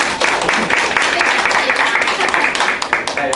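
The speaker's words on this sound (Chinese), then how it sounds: "来，掌声鼓励，掌声鼓励。" A seminar audience at an online-marketing startup event claps loudly and steadily for several seconds, with crowd voices mixed into the dense applause.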